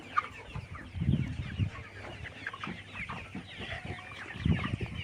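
Pullet layer hens in a small rooftop or backyard farm cluck steadily, several birds overlapping in a continuous close chorus with louder bursts near the start and end.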